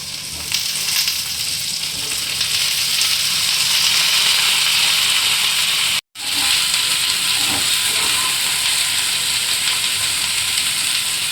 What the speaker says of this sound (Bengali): এরপর আমি কুঁদরিটা দিয়ে দিচ্ছি